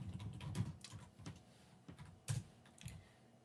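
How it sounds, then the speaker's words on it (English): Keys clatter on a computer keyboard as someone types out a math equation, quiet irregular taps and small bursts spread over a few seconds with no voices. "let's type the second equation"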